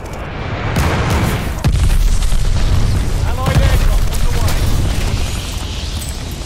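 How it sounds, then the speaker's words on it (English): Glide bomber airstrike explosions in Call of Duty: Vanguard, with repeated heavy booms and rumbling blasts rolling one after another in a loud, continuous barrage. "Glide bomber assist coming in."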